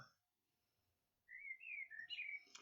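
Birds chirping outside, a bright whistled song of several rising and falling phrases in the second half, clear and fairly close against a quiet room, with a brief voice fragment at the start.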